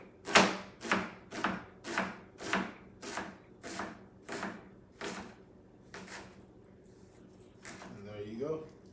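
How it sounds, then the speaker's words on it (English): A knife chops food on a cutting board in about ten evenly spaced, crisp strikes that slow and fade toward the end, close and clear, with a brief voice near the finish. "This is where it makes it easier for you to chop."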